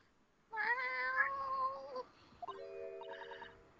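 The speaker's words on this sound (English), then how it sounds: "Oh, what was that? It's the cat, Dodo." A cat gives a clear, drawn-out meow followed by a second, shorter meow, close and alone against a quiet background.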